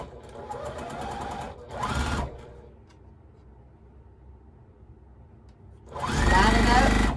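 Close-up sewing machine stitching quilt fabric blocks in a chain, running in a steady whir, pausing briefly for a short burst, going quiet while the fabric is lined up, then speeding back into a loud continuous run.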